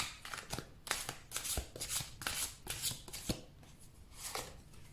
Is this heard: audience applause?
no